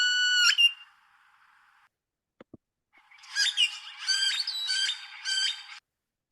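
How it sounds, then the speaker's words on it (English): Great-tailed grackle calls: a harsh squawking burst, a quiet pause with two faint clicks, then a longer run of repeated piercing, metallic chirps and squeals, clear and close against a silent background. "The great-tailed grackle is a songbird, so it has a lot of different calls."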